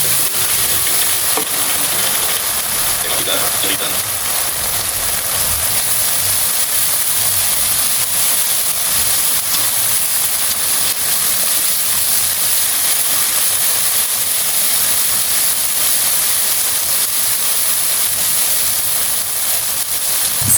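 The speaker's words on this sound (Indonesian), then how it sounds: "panaskan minyak goreng dan tumiskan bumbu halusnya sampai benar-benar matang" Ground spice paste for a spicy jengkol kalio sautés in hot cooking oil, a steady close sizzle and hiss that runs unbroken with faint stirring scrapes underneath and no voices.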